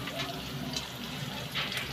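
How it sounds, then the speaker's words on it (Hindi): Water pours from a lota into a pot of khichdi with turmeric, a continuous close splashing gush under steady flow, with no talk. "अब हम पानी भी इसमें डाल देंगे"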